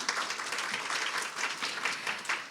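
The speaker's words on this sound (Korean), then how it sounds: "두 연사분께 다시 한번 큰 박수 부탁드립니다" Applause from a conference audience at a panel session on performance-based compensation, a steady broadband patter of many hands held at moderate, fairly distant level throughout, with no voices over it.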